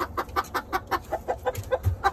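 A rooster clucks in a steady run of short, close clucks, about five per second, with no talking.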